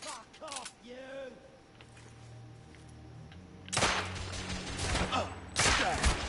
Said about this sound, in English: shooting is super interesting